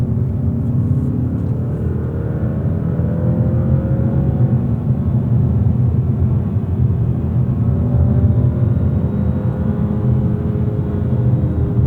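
A 2025 Mazda3 Hatch with front-wheel drive and a manual gearbox, under 200 horsepower, accelerates hard with traction control off, giving a steady loud engine drone with rising harmonics and no talk.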